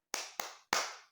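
A class of students claps the tepuk semangat chant in a classroom, giving three crisp, loud, close claps in quick succession.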